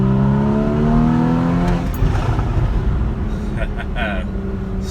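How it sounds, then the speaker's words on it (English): A Porsche Cayman GTS with a sports exhaust: the engine note drops away from high revs into a loud, rough rumble. Brief exhaust crackle follows toward the end. "this is a sports car with a sports exhaust that you can do this with"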